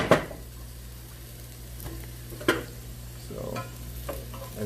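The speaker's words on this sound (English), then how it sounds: "Definitely hear them sizzling away." Oven-roasted carrots sizzle steadily in a pan, a soft continuous crackle with occasional scraping knocks as they are moved around, no voices.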